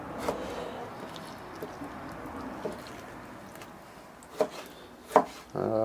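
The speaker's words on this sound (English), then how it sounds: "cut the liver into nice small chunks" Knife chopping raw liver into small chunks on a board for meat preparation: soft, uneven cuts with a few sharper knocks toward the end, close and fairly quiet.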